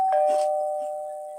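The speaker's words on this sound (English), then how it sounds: "Bother that doorbell." A single doorbell rings with one clear, sustained chime that slowly fades, heard close and alone in a house where tea is being taken.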